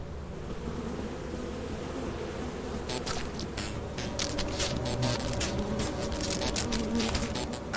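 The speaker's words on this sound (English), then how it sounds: "We get bees for sure." Bees drone in the video game Lethal Company, a continuous close buzzing swarm that grows busier in the second half, with scattered clicky bursts layered over it.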